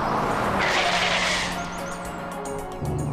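A car skids during a traffic accident, a loud tire screech that rises and then fades into engine noise over a few seconds.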